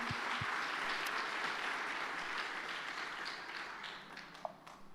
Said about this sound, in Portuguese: dá mais um aplauso ao Senhor em nome de Jesus